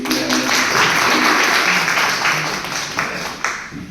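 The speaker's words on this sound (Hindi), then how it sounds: "जामबाज के लिए भी जोरदार तालियां बजा दीजिए" A crowd at a public speech gives loud, dense clapping that fills the stretch, tapering slightly toward the end with a few louder claps standing out.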